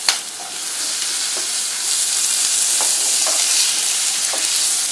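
Onion and tomato sautéing in a pan for a Tamil potato kurma, a loud, steady close-up sizzle and hiss with occasional stirring scrapes, no talking.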